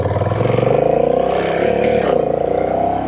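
Honda Rebel 1100 DCT motorcycle engine pulling hard under acceleration with no clutch or shifter, a loud, steady close-up drone with rising pitch and a faint shift in tone partway through.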